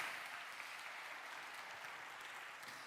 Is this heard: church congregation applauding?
yes